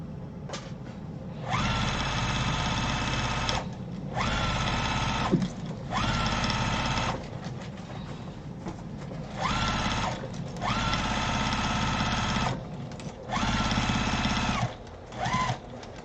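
A sewing machine stitches a fabric briefcase in repeated runs of steady whirring, each lasting one to two seconds, with short quiet pauses between them, close and clear.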